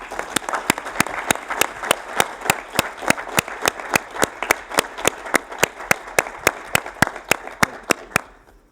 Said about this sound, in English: Maybe we can have a round of applause just for Jacek.